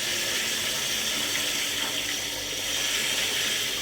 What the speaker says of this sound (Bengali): চালটা একটু ধোয়া দিয়া